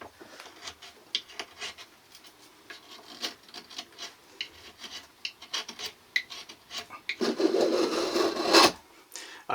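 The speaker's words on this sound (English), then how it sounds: "just using a little, like a spoon carving type knife, just to try and get this down a little bit smoother" A spoon carving knife shaves and smooths a wooden base for a tool tote, giving repeated short rasping scrapes close up, building to a denser, louder stretch of rubbing near the end.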